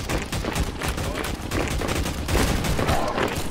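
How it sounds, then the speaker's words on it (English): Suppressing gunfire rattles in a video game, with dense continuous automatic bursts firing close and loud for the whole stretch. "I'm suppressing fire on the lighthouse."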